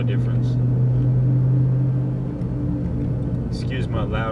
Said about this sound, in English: Excuse my loud as fuck wheel bearings.